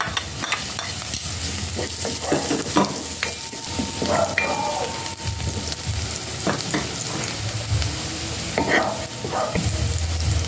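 Chopped garlic sizzles in a hot pan for pork liempo pinakbet while a utensil stirs and scrapes, giving a steady close frying hiss with repeated clattering scrapes throughout.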